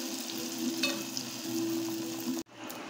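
Rava paniyaram batter sizzles steadily in hot oil in a paniyaram pan, a close, continuous crackling fry with a faint steady hum underneath that cuts off abruptly near the end before the sizzle resumes.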